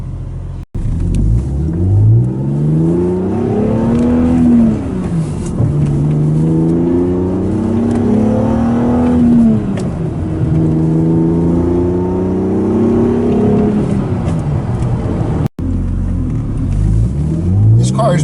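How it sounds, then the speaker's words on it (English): A BMW M Coupe engine revs steadily through rising and falling pitch sweeps as the car accelerates hard, a loud continuous drone heard up close from inside or beside the car, with a brief cut near the end. "We're here with the M Coupe, you really have to rev it out to get the most performance out of it."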